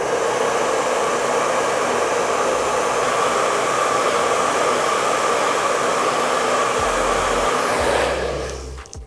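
Hair dryer blowing on wet yellow watercolor paint, a loud continuous close-up roar that stays steady for about eight seconds and then cuts off.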